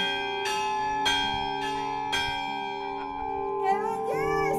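Church bell of Nuestra Señora de los Desamparados, rung in several bright, ringing strokes with long overlapping resonance, followed by a quicker run of tones near the end.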